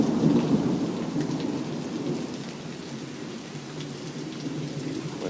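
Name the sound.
thunderstorm with rain and thunder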